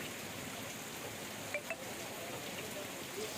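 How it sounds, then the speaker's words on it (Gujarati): Evening rain falls over Siddhpur taluka in Patan, a faint, steady hiss of drops with a couple of brief louder drips partway through and no voices. "સાંજ થતા જ વરસાદ વરસ્યો"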